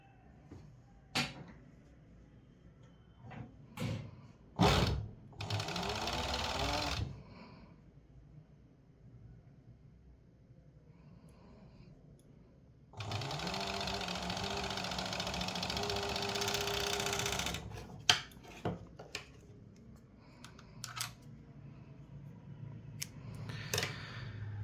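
Sewing machine stitching a T-shirt shoulder seam, two separate bursts of motor whir with handling clicks and rustles of fabric in the quiet gaps between.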